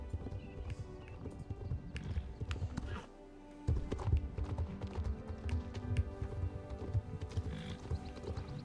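Horse hooves clip-clop steadily in the Star Stable video game, a fairly quiet and even rhythm of footfalls that continues through a brief lull and then resumes.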